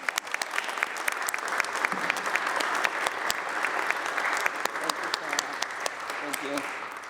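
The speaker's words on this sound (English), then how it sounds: "So let's give them applause." Applause fills the New York State Senate chamber for staff members, a dense, sustained clapping from many hands that rises and holds, with a voice briefly heard over it.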